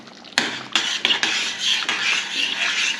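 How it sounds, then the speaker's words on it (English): Bolognese sauce stirred in a metal pot on a switched-off gas hob, a spoon scraping and knocking against the sides in repeated close, clear strokes with no talking. "Keep stirring it so it doesn't stick."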